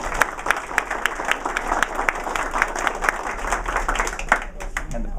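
An audience applauds at a party, with distinct sharp hand claps standing out within a busy, fairly close spatter of clapping, while people talk under it.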